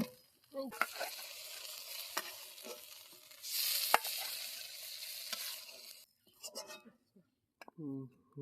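Banana flower paste frying in a pan, a steady close sizzle with occasional stirring scrapes, fading near the end into brief clinks and a quiet voice.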